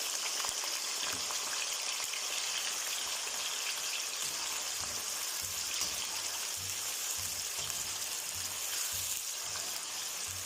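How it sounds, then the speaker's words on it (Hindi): Cut potato pieces fry in hot oil in a pan for an okra-potato sabzi, giving a steady, even sizzle and bubbling that stays loud and constant throughout with no voices. "तो इसी गर्म ऑयल में हम आलू शामिल करेंगे।"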